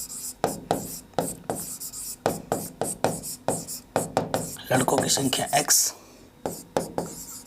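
Marker or chalk strokes on a board while working a Class 10 maths word problem in Hindi, a rapid series of short scratchy taps and rubs, close and fairly loud, with someone talking in between.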